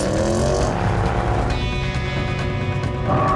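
A Range Rover Sport pulls away hard on a muddy track, its engine note loud and close, building steadily and shifting pitch partway through as the vehicle gathers speed.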